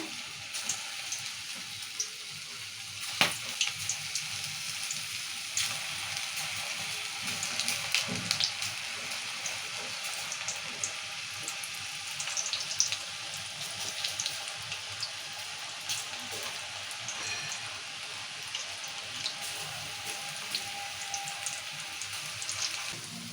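Okra pakoda fritters dropped one by one into hot oil, a constant bubbling sizzle close by with occasional pops, steady throughout.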